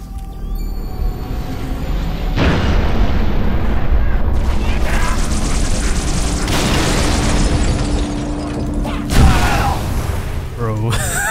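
Artillery fire pounding down in the game Halo: Reach, a series of heavy booming explosions with long rumbling tails, loud and close, under radio chatter and battle noise.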